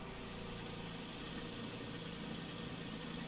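The Icon A5 light aircraft's engine idles in Microsoft Flight Simulator 2020, a steady, even hum with low rumble and no change in pitch, heard alone.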